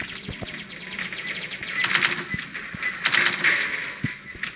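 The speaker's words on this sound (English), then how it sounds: "Oh, crap, that's a gun." Gunfire in a video game, bursts of sharp shots and a rattling flurry of rapid fire, fairly loud and close with brief pauses between volleys.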